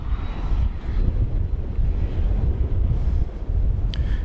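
American Flight 131, a Boeing 777-200 from Venice, arriving at DFW Airport: a steady, loud, broadband jet roar with heavy wind buffeting on the microphone, sustained throughout with no speech.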